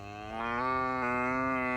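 A mother cow on a snowy New York farm calls out for her calf with one long, drawn-out moo that rises in the middle, close and clear.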